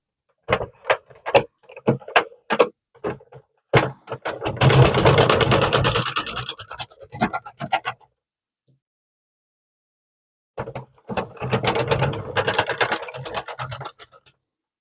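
A Sentro 48 circular knitting machine is cranked by hand: a run of separate clicks builds into a rapid, continuous clattering whirr, stops for a couple of seconds of silence, then resumes at the same brisk pace.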